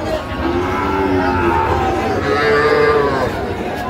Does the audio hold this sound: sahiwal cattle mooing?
yes